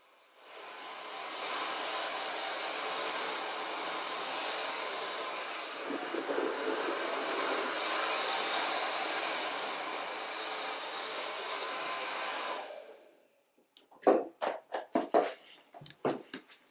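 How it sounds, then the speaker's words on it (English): A hair dryer on its cold setting blows over a warped balsa model wing with a steady, loud whoosh for about eleven seconds, then cuts off, followed by a few sharp knocks and clatters. "now Virginia is using the cold setting on the hairdryer to cool it down a bit quicker"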